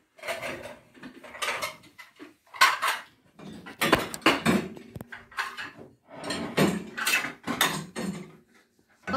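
Dishes, pots and cutlery clatter and clink as they are loaded into a dishwasher in a village house kitchen, in close, uneven bursts of rattling with brief pauses.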